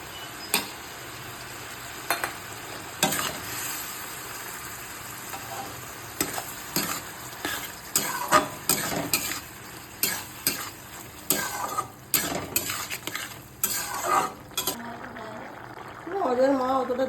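Poppy seed paste cooks with ridge gourd in a pan for jhinge posto, a soft sizzle with irregular spoon scrapes and clinks, and a voice talking at times.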